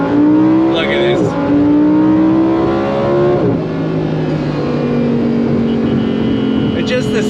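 A 2024 Lamborghini Huracan Sterrato V10 revs loudly and steadily, its pitch climbing, dipping sharply, then holding high, with a brief voice-like sound near the end.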